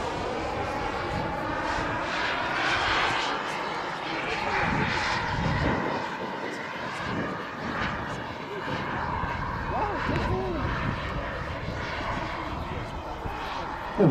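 Giant radio-controlled scale A-10 Thunderbolt II Warthog jet model with two turbines, a loud steady turbine roar with rising and falling whine as it passes, continuous throughout with faint voices beneath.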